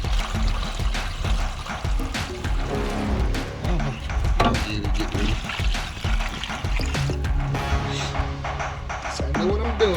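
Water poured into a smoker pan of oxtails, a steady trickling pour running under a busy mix of background sounds and some talk.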